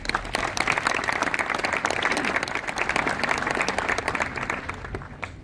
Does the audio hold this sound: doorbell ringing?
no